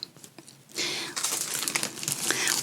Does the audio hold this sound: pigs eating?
no